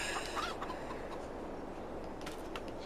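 Chickens cluck faintly in Farming Simulator 22 on the Hallig Petrus farm, with soft scattered calls over a low background hiss.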